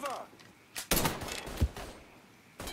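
Gunfire in the video game Mafia 3: a few sharp, loud shots spaced irregularly over a couple of seconds, each followed by a short decaying tail.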